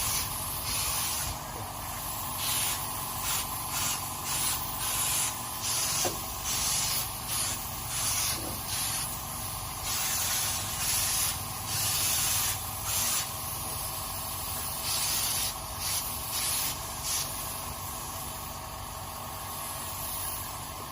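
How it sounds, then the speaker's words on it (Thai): Spray gun laying down the first coat of urethane finish in a workshop, a steady close hiss with rhythmic pulsing bursts running continuously for the whole stretch, no voices. "เป็นการพ่นยูนิเทนรอบแรกครับ ลงยูนิเทนรอบแรก"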